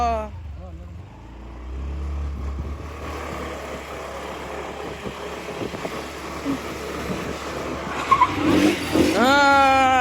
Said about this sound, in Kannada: ಫೈನಲಿ ಗಾಡಿ ಸ್ಟಾರ್ಟ್ ಆಗೋಯ್ತು.